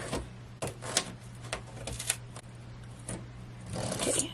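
Scissors cutting through a large board, a run of uneven crisp snips and crunching cuts close by, with a rougher scraping burst at the end and no talking.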